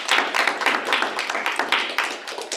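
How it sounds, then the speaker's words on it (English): Lively clapping from a small group at a team meeting, with individual hand claps audible in a quick, uneven rhythm, close and moderately loud, without any talking. "Huge round of applause."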